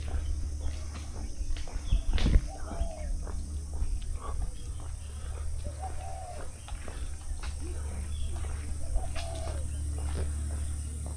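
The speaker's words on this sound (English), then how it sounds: "Nice to hear birds making their cooing sound." Soft, repeated cooing calls from birds at a moderate distance on Lamma Island, Hong Kong, recurring every few seconds over a constant outdoor hum and insect chirps.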